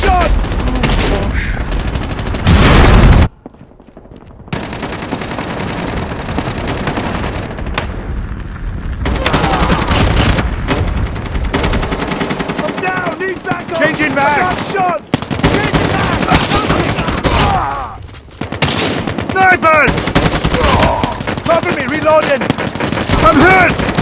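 Gunfire in the mobile shooter game Call of Duty Mobile: loud, dense bursts of automatic weapon fire and single shots crackling almost continuously, with brief pauses and a player shouting over the action.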